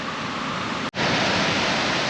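Fast-flowing Danube river water in Bratislava, Slovakia, rushing as a steady, loud broadband roar with a brief dropout near the middle before the flow resumes.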